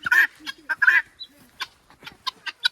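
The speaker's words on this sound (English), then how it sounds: "And our lovely guinea hens." Guinea hens at a home garden call loudly in a burst of harsh, repeated squawks and chattering cries, several overlapping near the start, then sharper scattered calls at close range.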